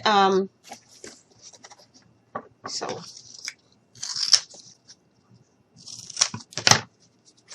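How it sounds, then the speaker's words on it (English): A blade slices through a strip of foam board in short crunchy, squeaky cuts, close and intermittent, with brief talk between the strokes. "take some of our foam board, and I am just going to cut a strip"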